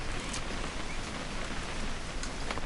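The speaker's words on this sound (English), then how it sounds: "It's gonna rain the whole weekend, isn't it?" Steady rain falls as a dense, even hiss in the video game What Remains of Edith Finch, with no voices.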